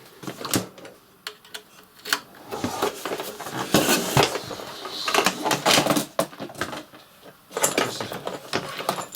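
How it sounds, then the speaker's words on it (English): Morse code keyed by hand on a straight key connected to an Icom IC-718 radio, giving irregular clicks and taps in uneven bursts, fairly close and moderately loud with no talking. "So let's try it with the straight key."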